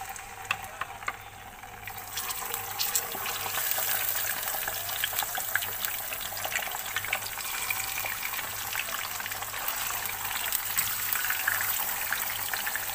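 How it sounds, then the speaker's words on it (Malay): Mackerel fish frying in hot oil, a steady close crackling sizzle with dense spitting pops running continuously throughout. "Kita panaskan minyak dan kita goreng ikan kembung ni ya sampai masak."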